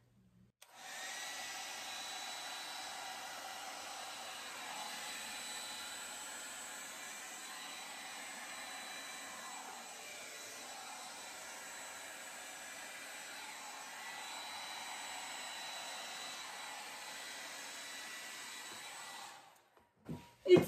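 A steady, close, whooshing stream of blown air plays over wet acrylic pour paint for about twenty seconds, then cuts off abruptly with a brief handling noise at the end. No one speaks.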